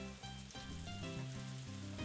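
Rain in the video game Harvest Moon: A Wonderful Life makes a continuous soft hiss that runs under the game's gentle looping music.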